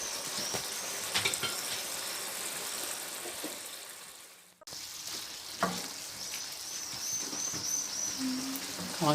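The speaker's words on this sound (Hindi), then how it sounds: "थोड़ा सा पानी ऐड करेंगे।" Chicken shawarma pieces sizzle steadily in a pan as a splash of water is added partway through, the frying hiss dipping briefly then returning with bubbling and stirring clatter close to the mic.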